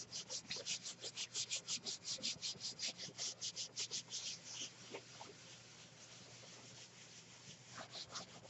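Paper rubbed by hand over a gel printing plate to pull a print, heard as a fast, steady run of close, soft scratchy strokes that slow and thin out toward the end.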